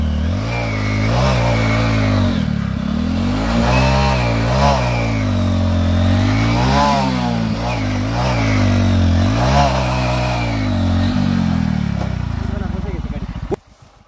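A Hero Glamour motorcycle engine revs hard and continuously in rising and falling surges during a wheelie attempt, loud and close, with voices talking over it before it cuts off abruptly near the end.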